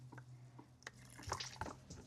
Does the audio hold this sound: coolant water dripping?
yes